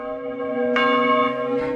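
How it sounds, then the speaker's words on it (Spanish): Church bells ring out loud and close, a sustained metallic tone with a fresh strike partway through and another just before the end, layered over a lingering hum of earlier strokes. "las campanas de la iglesia empezaron a tocar espontáneamente"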